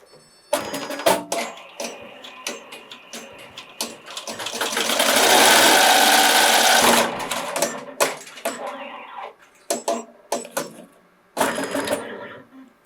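An embroidery machine stitches a multi-color foam cap design, its fast stitching rising into a loud steady whir for a few seconds amid close mechanical clicks and clatter.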